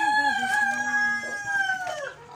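A hen lets out a drawn-out, tonal call close by in a hen room, with a few short clucks and faint background noise.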